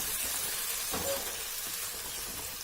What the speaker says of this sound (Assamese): এয়া ভাজি আছোঁ।